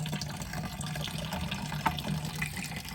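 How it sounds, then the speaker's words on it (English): Gasoline trickling and splashing as it drains from a 2001 Kawasaki KLX 300R gas tank, a faint steady liquid pour with no voices. "we're draining the gas tank down"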